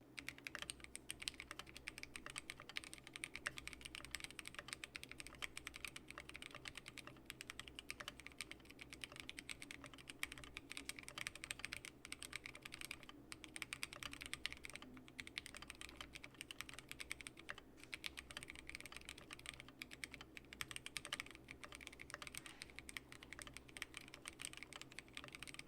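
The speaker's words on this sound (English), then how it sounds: "I have Keychron Pro Browns on this keyboard as well as some YMDK Mac" Someone types steadily on a Keychron Q5 keyboard fitted with Keychron Pro Brown switches and YMDK keycaps, producing a quiet, continuous patter of soft key clicks at an even pace with no pauses.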